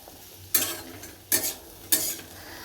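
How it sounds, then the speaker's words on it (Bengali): Potatoes fry in a home kitchen pan: three distinct scraping stirs, each a sharp sizzling burst over a soft, continuous background fry. "এখানে তুলতুলের বাবার জন্য আলু ভাজা হচ্ছে"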